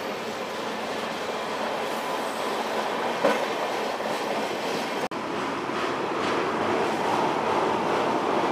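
A high-speed passenger train hauled by a WAP7 electric locomotive, a loud continuous rumble and rush of wheels on rail heard from on board, with faint rhythmic clicks and one brief sharp dropout midway.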